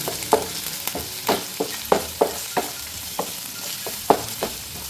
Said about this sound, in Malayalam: സവാള ഇട്ട് കൊടുക്കാം പച്ചമുളക് ഇട്ട് കൊടുക്കാം കൂടെ തന്നെ കറിവേപ്പിലയും കൂടി ഇടുന്നുണ്ട് ഇതൊന്ന് നന്നായിട്ട് വഴറ്റിയെടുക്കാം